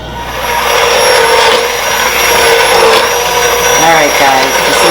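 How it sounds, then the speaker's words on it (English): A steady, loud motorized whirring runs throughout as an immersion blender churns thick lobster bisque, with a voice briefly audible beneath it. "you're going to take an immersion blender"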